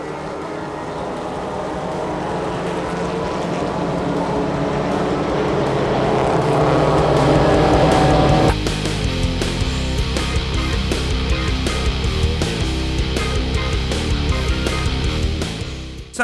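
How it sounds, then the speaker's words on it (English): A packed grid of 54 production race cars, including a Mazda MX-5, roars off at full throttle at Silverstone during a 24-hour endurance race, a dense, loud, sustained engine wall that swells and then holds steady with no talk. "in a minute we're going to witness what 54 production cars sound like on full throttle."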